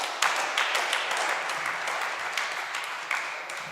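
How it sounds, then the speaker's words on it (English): A town hall crowd claps for themselves at a community event, with warm, sustained applause filling the room at an even level and a few crisp claps rising above it. "I would love for you to give yourselves a round of applause"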